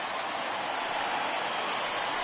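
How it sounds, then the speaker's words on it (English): Rain pouring down during a baseball game in MLB The Show 21, a dense, even hiss of falling rain, steady and unbroken with no voices heard. "we've mentioned the conditions aren't ideal with the rain coming down"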